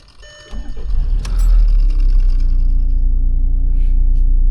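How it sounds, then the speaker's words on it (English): An old car engine with almost 500,000 kilometres cranks briefly, catches, and settles into a steady, smooth low idle that carries on to the end, close and fairly loud. "It is one of the smoothest starting vehicles ever."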